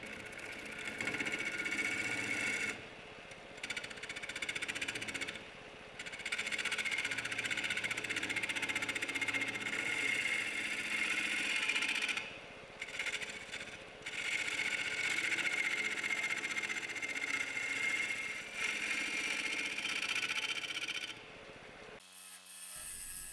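A wood lathe spins a black walnut bowl with an epoxy repair, producing a steady whirring machine hum that cuts out briefly several times and resumes, close and fairly even, with no speech.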